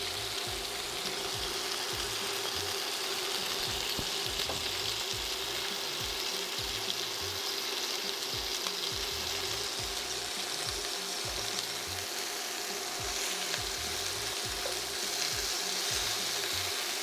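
Bacon-wrapped shrimp and asparagus rolls fry in a pan on high heat, giving off a steady, soft, continuous sizzle with a faint crackle underneath, fairly quiet and without talk.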